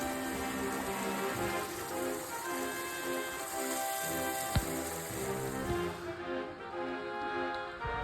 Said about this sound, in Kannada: ಮಳೆ ಅಂತೂ ಫುಲ್ ಕಂಟಿನ್ಯೂ ಬರ್ತಾನೆ ಇತ್ತು